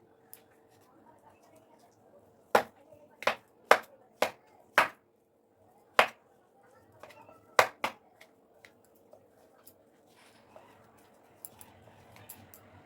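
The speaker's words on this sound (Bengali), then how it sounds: "এবার এই আলু দুটোকে ভালোভাবে ম্যাশ করে নেব" Two boiled, peeled potatoes are mashed for aloo paratha, producing a run of sharp, close knocks against the bowl, about eight in quick succession, then a few fainter taps trailing off.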